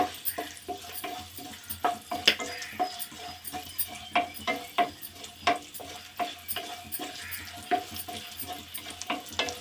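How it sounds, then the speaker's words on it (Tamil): Cashews and raisins fry in ghee in a pan, a soft steady sizzle broken by a quick, regular rhythm of spoon scrapes and stirring taps. "நல்லா பொரிஞ்சு வருது பாருங்க திராட்சை. இப்போ நல்லா பொரிஞ்சிடுச்சு."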